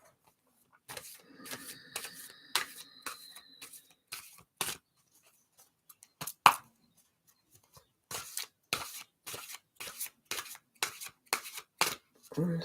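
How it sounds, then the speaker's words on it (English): Tarot cards being shuffled by hand, a run of dry, papery riffles and taps in short bursts with brief pauses between, close and fairly quiet, with faint talk early on. "let's give it a little shuffle"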